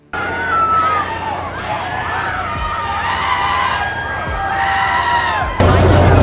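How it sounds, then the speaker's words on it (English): A dense outdoor crowd outside a courthouse cheers and screams after a verdict, loud and sustained with excited shouts rising over the din. "Outside the courthouse, cheers erupted as news spread through the crowd."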